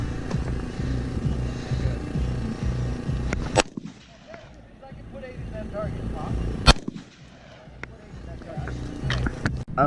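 Rifle shots fired outdoors in the desert, with a few sharp, loud cracks separated by gaps over a rumbling, busy background. People talk between the shots.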